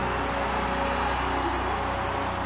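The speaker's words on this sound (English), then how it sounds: "The crowds here, they were just erupting." Dense, steady roar of a large crowd cheering and applauding at a STIHL Timbersports competition, loud and continuous throughout with no breaks.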